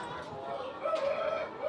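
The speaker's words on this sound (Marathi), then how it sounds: "कोंबडा बघा हा लगेच बाहेर येतोय." A rooster in a poultry shed at an agricultural fair gives a short, faint call over a busy background of crowd murmur and hall noise, rising slightly near the end.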